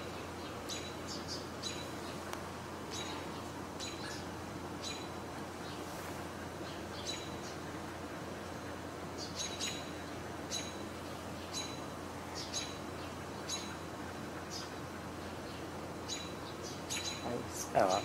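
Birds chirp and call repeatedly outdoors over a steady background hiss, short bright tweets recurring throughout, with a person talking at times in the background.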